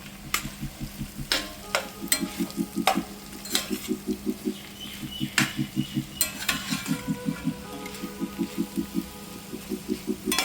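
Fried bitter gourd with jaggery is stirred in a pan: rhythmic scraping strokes in quick bursts with sharp spoon clinks, over a continuous light sizzle, close and without speech.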